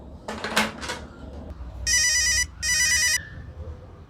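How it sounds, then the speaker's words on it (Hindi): A brief clatter, then two bursts of an electronic telephone ring, each lasting under a second with a short gap between them. "असलम को फोन लगाता हूँ।"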